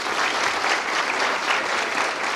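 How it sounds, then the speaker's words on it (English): Audience applause at a police academy passing-out ceremony: a large crowd claps steadily and evenly for the full two and a half seconds, dense and fairly close, with no speech over it. "Maybe let us give him a big round of applause,"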